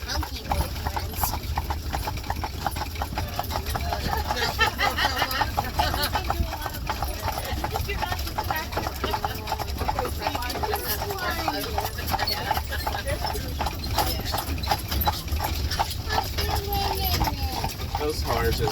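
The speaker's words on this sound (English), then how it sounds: "Those horses are the ones they use for their like horse and buggy, just to travel." Amish horses used for horse-and-buggy travel in Bird in Hand, Pennsylvania, hooves clip-clopping in a steady rhythm throughout, with people talking over the sound.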